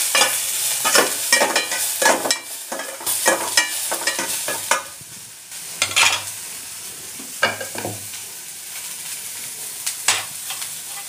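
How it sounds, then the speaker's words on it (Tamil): Garlic and onion sauté in hot oil with a soft, continuous sizzle, broken by frequent scraping and clattering stirs of a spoon against the pan, close and uneven in rhythm, without speech. "பூண்டு வெங்காயத்தை வதக்கிக்கலாம்"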